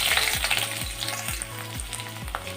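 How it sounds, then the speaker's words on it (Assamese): Onions fry in hot oil in a wok with a dense, continuous, close sizzle over a repeating low mechanical chirp, and nobody speaks. "এতিয়া মই দিলোঁ ইয়াত পিঁয়াজ।"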